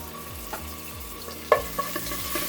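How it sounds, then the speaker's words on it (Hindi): Garlic ginger paste frying in oil in a pan for a keema samosa filling: a steady close sizzle with scattered clicks and scrapes from stirring, one sharper knock in the middle. "मैं इसमें लूँगी 1 टेबलस्पून भर के लहसुन अदरक का पेस्ट"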